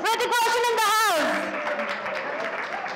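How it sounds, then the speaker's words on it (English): An audience applauds Hrithik Roshan at a Happn app launch event. Loud voiced whoops and cheers open it, then they give way to steady crowd clapping that continues to the end. "can we have a round of applause for Hrithik Roshan in the house?"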